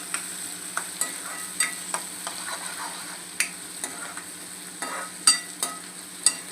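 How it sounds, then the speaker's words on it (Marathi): Onions frying in a kadahi for dhaba-style Punjabi kadahi chicken, with a steady sizzle and a series of sharp scraping stirs and taps at irregular intervals, close and fairly quiet, with no talk. "कांदा मस्त असा आपल्याला लाल होईपर्यंत मस्त असं शिजवून घ्यायचं"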